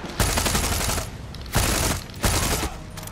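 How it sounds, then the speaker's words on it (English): Enemy shotgun fire in the video game Far Cry 6 comes as three loud bursts of gunfire in quick succession, each a dense blast with a short tail, close and dominant with no talk over it. "He must have a shotgun. Damn it, now he's shooting at me."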